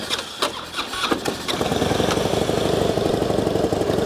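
A used Harley-Davidson touring motorcycle engine cranks briefly with a few uneven turns, then catches and settles into a steady, loud, throbbing idle nearby.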